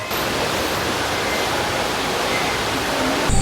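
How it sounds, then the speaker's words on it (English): Rushing water from the Cairns Falls waterfall in the rainforest, passed up close: a loud, steady broadband roar that continues unbroken throughout, with no voices. "We're passing through this waterfall right now."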